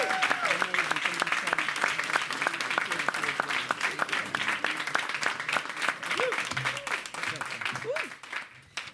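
Audience applause welcoming Angelica Ross at a New York City mayoral announcement event, dense sustained clapping that fades near the end, with a few voices rising over it.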